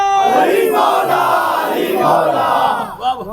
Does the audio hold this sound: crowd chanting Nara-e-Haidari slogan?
yes